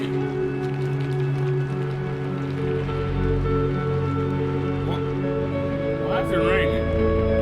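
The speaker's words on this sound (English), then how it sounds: "Why is it raining?" Steady rain falls with a constant wash of drops, a continuous hiss running through the whole stretch beneath sustained tonal hum.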